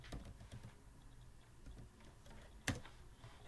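Typing on a computer keyboard, a run of light quick key clicks with one sharper tap near the end, faint and close with no talking.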